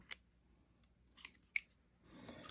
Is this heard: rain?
no